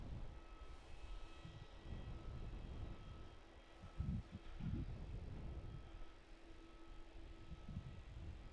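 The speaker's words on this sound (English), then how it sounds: "Emirates is on the taxi. See that taxiing out to runway 16 now." An Emirates airliner taxis out toward runway 16 at Melbourne Airport, a faint, distant jet engine whine and rumble holding steady over low background noise, with a brief louder thump midway.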